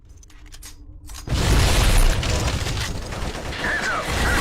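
A loud, broadband explosion in the PS2 shooter Black bursts in after a quiet opening second, then rumbles and crackles on with debris and gunfire-like clatter filling the rest.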